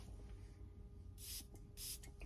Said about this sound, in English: Now this here, spray on a test strip.